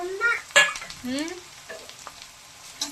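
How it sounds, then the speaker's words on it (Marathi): Coconut and coriander paste drops into onions frying in a pan for mutton sukka, giving a sudden sharp sizzle and stirring scrapes followed by a softer, continuous frying hiss. "त्याच्यामध्ये आपण ना हे खोबरे आणि कोथिंबीरचं वाटण टाकूया"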